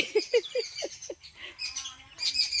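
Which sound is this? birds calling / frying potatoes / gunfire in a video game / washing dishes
birds calling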